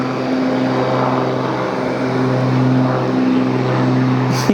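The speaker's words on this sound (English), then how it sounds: "You know you're bored when you're shooting the twin Cessnas taking off" Twin-engine Cessna propeller planes taking off at an airport, giving a loud, steady droning engine hum with a strong low tone that continues throughout, with no talking.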